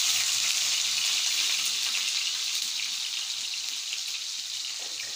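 Ginger garlic paste fries in a pan while fish curry is cooked, making a loud, even hiss of sizzling oil that holds steady throughout, close up and without speech.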